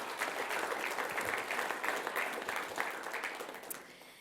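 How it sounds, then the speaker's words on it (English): Applause for Peoria High School at a school governing board meeting, a fairly quiet, steady patter of many hands that gradually tapers off over about four seconds. "let's give Peoria High School a round of applause"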